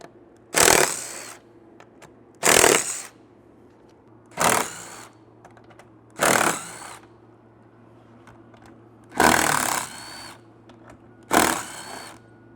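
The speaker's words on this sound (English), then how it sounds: "use your 12mm socket and remove the stock bolts" A 12mm socket wrench ratchets on the stock roof bolts of a Lexus GX 460 while a Land Cruiser 100 Series roof rack is fitted. Six short, loud ratcheting bursts come at roughly even intervals, each separated by a quiet pause.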